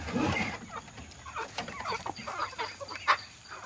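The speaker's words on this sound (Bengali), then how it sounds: "সাবিকা মুরগির খড় ছেড়ে দিচ্ছে" Chickens clucking and squawking nearby as they are let out of their coop in the morning, a scattered run of short calls over a quiet outdoor background.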